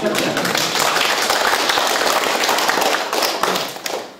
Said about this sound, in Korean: 박수 칩니다